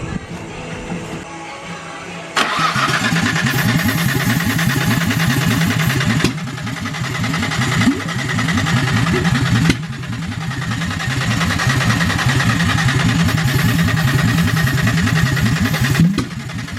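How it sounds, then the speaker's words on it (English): A Nissan Skyline R33 drift car engine cranks briefly on first start, then catches and runs loud and rough, backfiring with a few sharp pops breaking through the steady rumble. "It's backfiring."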